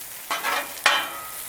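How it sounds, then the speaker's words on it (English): Hash browns cooking on a Blackstone griddle, with short scraping stirs and a soft crackling sizzle beneath them, close by and brief. "Check on our hash browns"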